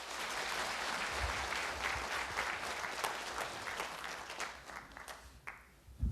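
Sustained audience applause at a Buddhist harmony seminar's opening ceremony, steady broadband clapping from a full room that thins out and fades toward the end.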